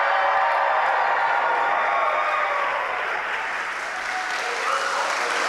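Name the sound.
live audience cheering and applauding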